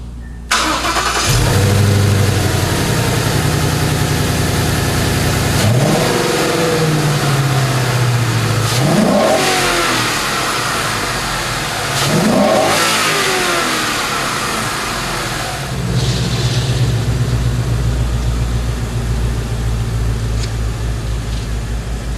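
A 2015-2017 Ford Mustang fitted with an Airraid cold air intake starts up and idles, then revs hard several times in loud, close bursts that swell and drop back before it settles into a steady idle.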